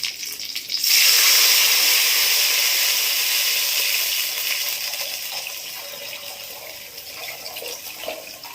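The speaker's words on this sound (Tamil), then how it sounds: "இப்போ கரைச்சி வச்சுருக்க புளியில சேர்த்துக்கலாம்." A sudden loud sizzle as tamarind water hits a hot pan, hissing strongly at first and then settling into a steady, gradually softer bubbling sizzle.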